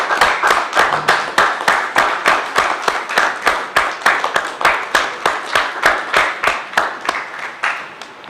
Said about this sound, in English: I would like all members to join me and stand and applaud the workers